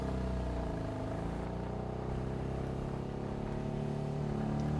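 A Porsche 911 Targa 4S (991, 3.0 turbo) idles steadily and pulls away with a continuous low engine drone at an even, moderately loud level.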